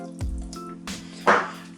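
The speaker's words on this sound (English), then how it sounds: "40 ml of boiling water." About 40 ml of boiling water goes into a bowl in a kitchen, heard as a few brief drips and a soft wet splash, close and quiet with no talking.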